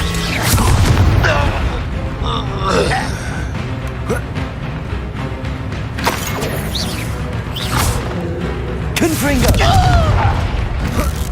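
Explosive Confringo spell blasts from the Hogwarts Legacy video game, heavy booming bursts with whooshing and crashing debris, repeated several times at irregular intervals amid continuous game sound, with voices talking over parts of it.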